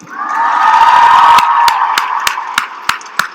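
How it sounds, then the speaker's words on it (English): A commencement crowd at Columbia University's Teachers College 2019 ceremony roars and cheers in a loud sustained swell, then sharp individual claps ring out as the cheering fades. "keep that applause going for your family and friends here today"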